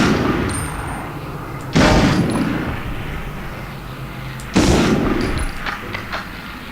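Gunfire in a Medal of Honor video game: two heavy, booming shots a few seconds apart, each with a long rumbling decay over a constant background din.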